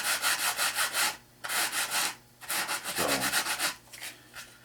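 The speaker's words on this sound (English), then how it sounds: "Use 150 dry sandpaper, and you just kind of sand along here, and you'll notice it just cuts it off like a knife." Dry 150-grit sandpaper rubbing along cut fiberglass edges, a close, steady rhythm of rasping strokes in bursts with brief pauses between them, no talking.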